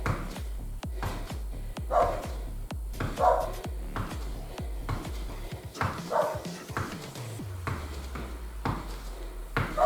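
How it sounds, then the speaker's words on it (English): A dog barks repeatedly in the background during a low-impact workout, faint yips spaced through the clip over a steady low thumping beat. "Ignore that barking dog."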